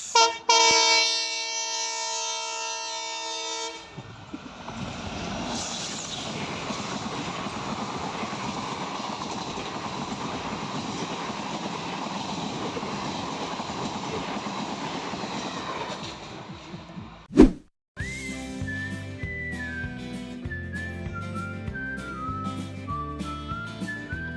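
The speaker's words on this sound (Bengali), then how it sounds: "ট্রেন আসছে গাইস" A train rolls past a level crossing during a Saraswati Puja outing, its loud, steady rumble and clatter filling about thirteen seconds after horn blasts at the start, then cutting off sharply as a rhythmic music track takes over.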